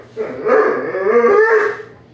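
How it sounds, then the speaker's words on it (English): A dog barks and whines in a loud, continuous run of yelps lasting about a second and a half, close by and with no talking over it. "there's a dog"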